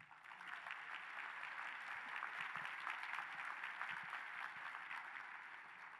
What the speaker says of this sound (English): keep that applause rolling for all the leadership of international organizations.